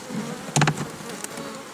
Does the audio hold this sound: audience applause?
no